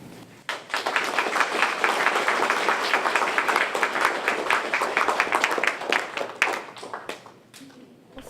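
An audience claps for Canadian war veterans of the Korean War, a dense, steady burst of many hands that swells quickly, holds for several seconds, then thins out to scattered claps.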